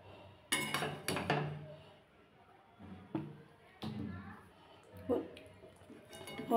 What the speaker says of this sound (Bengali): আমি এবার একটা প্লেটে সার্ভ করে দিচ্ছি